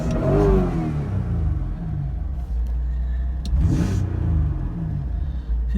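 A 1993 Mitsubishi 3000GT SL engine runs after an upgraded fuel pump and sending unit install, a close, low idling rumble with a couple of brief revs rising and falling.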